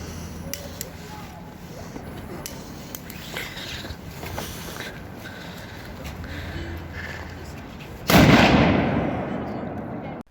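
Outdoors on New Year's Eve, a firecracker packet goes off with one loud sharp bang after several seconds of steady background noise and faint distant pops, followed by a fading hiss and crackle.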